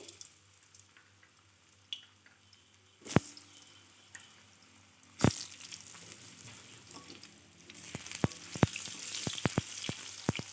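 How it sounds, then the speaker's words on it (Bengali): Potatoes sizzle steadily in hot oil used for frying fish while a utensil stirs, with a few sharp scrapes early and a quick run of clinks near the end. "এবার ওই তেলে আমি আলুগুলোকেও ভাজি ভেজে নেব"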